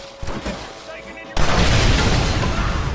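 A loud, sudden blast of TNT in the Red Dead Redemption video game, bursting in and leaving a sustained, rumbling roar after a quieter stretch with scattered faint sounds.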